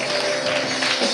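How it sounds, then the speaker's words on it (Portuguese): Church congregation applauding during a sermon, a dense, steady wash of clapping throughout a short moment. "Se você consegue, aplaude."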